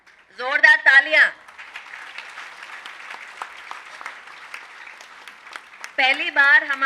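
An audience at a spiritual gathering claps to welcome a pyramid master visiting from Mexico; moderate, continuous clapping runs through the middle, with voices speaking before and after it.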